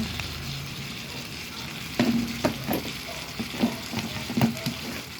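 Vegetables with chayote dropped into a hot pan and sautéing after onion, tomato and ginger, a sudden loud sizzle followed by steady frying hiss and clattering stirs.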